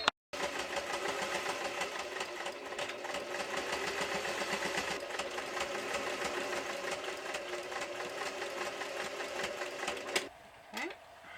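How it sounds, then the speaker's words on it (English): A home sewing machine runs a long zigzag stitch across scrappy quilt seams on a clothespin bag, a fast steady rattling whir. It stops briefly near the start and halts near the end. "zigzag stitch across all of these seams"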